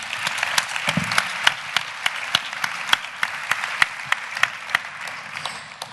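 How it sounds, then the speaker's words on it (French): A lecture-hall audience at a dyslexia awareness day in Lyon applauds a speaker, a steady mass of clapping with sharp individual claps standing out, moderately distant and fading toward the end. "on l'applaudit"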